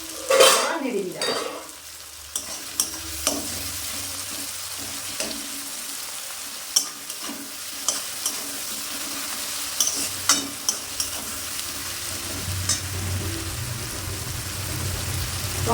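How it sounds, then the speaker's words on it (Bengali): Chicken and potato curry sizzles in a pan while a spoon stirs it, with repeated scraping clicks against the metal over a steady frying hiss; the sound is close and carries no talk. "আবার নেড়ে দিলাম।"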